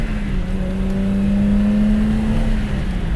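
Engine of a 1986 car, cold and driven gently, rising steadily in pitch after a downshift, heard loud and close from inside over constant road and cabin noise, without talk.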